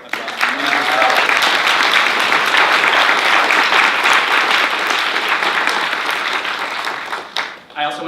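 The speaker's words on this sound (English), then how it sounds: "just give a quick round of applause." A summit audience breaks into dense, loud applause that holds steady for several seconds before tapering off, with a voice starting to speak at the end.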